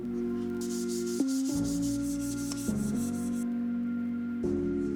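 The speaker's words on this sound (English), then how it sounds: "So I'm going to also sand it down and give it another shot." Hand sanding on the plastic pillar trim of a Mini Cooper S makes a steady, close rasping rub, with a few brief shifts in stroke and a constant background hum.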